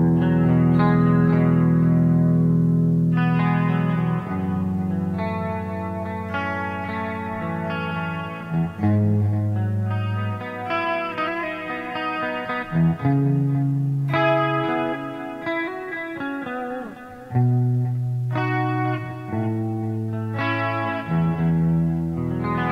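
Electric guitar played through a Headrush Gigboard studio clean preset, ringing chords and melodic lines with chorus and reverb, continuous and upfront for over twenty seconds with no talking.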